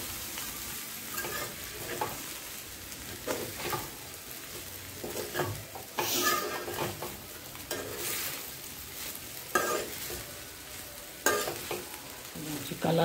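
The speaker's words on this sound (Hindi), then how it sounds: "अब इसको अच्छे से मिक्स कर देंगे हम।" Sabudana khichdi with added salt stirred in a frying pan, a steady sizzle with recurring scraping strokes of the spoon across the pan, fairly close and alone with no talk.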